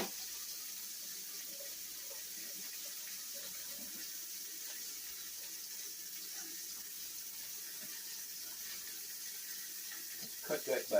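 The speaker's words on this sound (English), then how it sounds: "Let's wash a spoon." Tap water runs steadily into a kitchen sink while a spoon is rinsed, a constant soft hiss with faint clinks, and a voice briefly speaking near the end.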